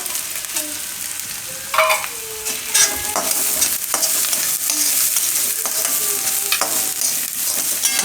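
Carrots and ginger sizzle loudly in a pan as vegetables for a veg lasagna are cooked, with steady frying hiss and repeated scraping strokes of a spoon, close and continuous.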